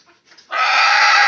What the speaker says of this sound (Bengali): আমাদের এই যে এটাই কুসা মুরগি, এরা দিয়ে মুরগি বাতে বসাইছি